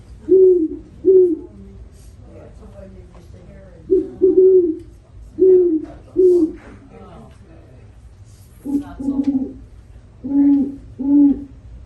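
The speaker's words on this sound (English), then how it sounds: "you can hear what our burrowing owl sounds like. Listen for the burrowing owl." A burrowing owl gives repeated soft, low hooting calls in paired bursts, fairly close, with short pauses between them against quiet background, at a Florida wildlife sanctuary.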